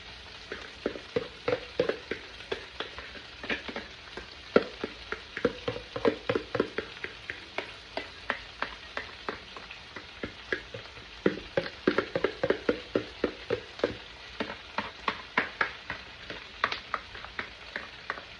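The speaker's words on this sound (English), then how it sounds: "So now I'm gonna add my cabbage." Cabbage frying in a pan gives a steady sizzle laced with many quick, sharp crackles and pops, close and fairly loud throughout with no one talking.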